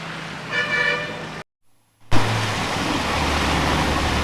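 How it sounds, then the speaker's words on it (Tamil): A BRO road-clearing vehicle passes on a snowy road near Manali, its horn tooting loudly at the start before a brief silent gap, then a steady close engine and road rumble. "बीआरओ गाड़ी जा रहा है क्लीन करके करके आराम से"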